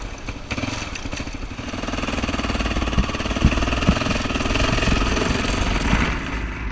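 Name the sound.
adventure motorcycle riding over Slick Rock sandstone, Moab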